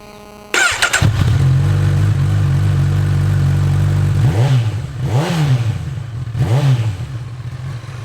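A Honda CB1000R motorcycle with an Akrapovic exhaust, its dB killer removed, starts up close by and settles into a deep, steady idle before three sharp throttle blips rise and fall near the end.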